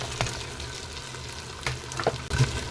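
Beans, carrot, potato and peas sauté in hot oil for veg biryani, a close steady sizzle broken by a few scraping stirs of the spoon.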